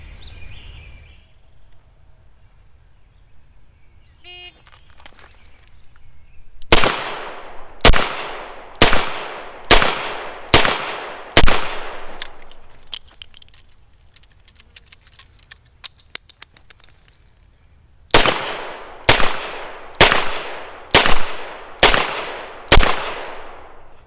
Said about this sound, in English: I'm going to fire it all under one 25-second time limit with both hands